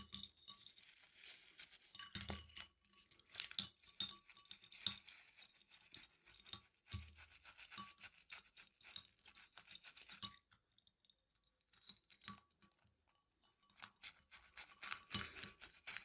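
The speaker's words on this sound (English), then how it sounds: "Just methodically go around the bracelet, giving everything a bit of a brush, keep dunking it, get the loose stuff out." A brush scrubs a stainless steel watch bracelet in quick, scratchy bursts with a few brief pauses, close and fairly quiet, with small metallic clinks mixed in.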